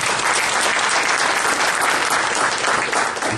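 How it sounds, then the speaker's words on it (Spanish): Sustained applause from an audience at a law conference, dense and steady throughout, close and loud with no pauses and no talk over it. "para quien solicito un fuerte aplauso"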